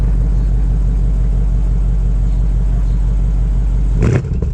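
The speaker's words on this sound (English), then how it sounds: "What you guys just heard were some baby little revs." A 2020 BMW M850i's engine holds a loud, steady rev near 4,500 RPM for about four seconds, a deep continuous rumble that then drops off abruptly as the throttle is released.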